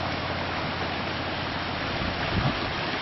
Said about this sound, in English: You see another more waterfalls all along.